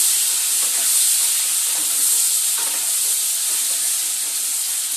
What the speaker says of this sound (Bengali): আলুর সময় একটু নাড়াচাড়া দিয়ে নেবো যত সময় না টমেটোটা একটু নরম হয়